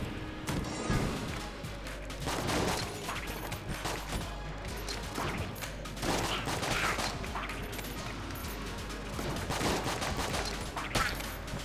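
Rapid-fire gun shooting in the Enter the Gungeon video game, a dense, continuous fusillade of shots filling the whole stretch with crashing impacts layered over it.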